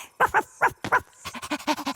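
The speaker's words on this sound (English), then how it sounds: "out popped a brown dog with a red collar" Brown cartoon dog with a red collar popping out of a bag, giving a quick run of close, high yips and whimpering barks, several sharp ones followed by softer rapid whines.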